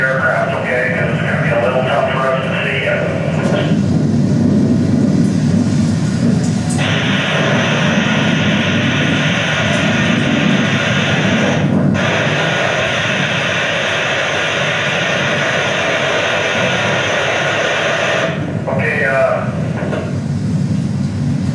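DC-10 airtanker flying over a wildfire, its jet engines making a loud, steady roar that fills the whole stretch, with a high whine joining partway through and fading near the end.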